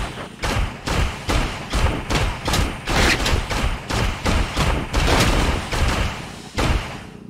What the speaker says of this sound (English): We're just making gunshots at this vehicle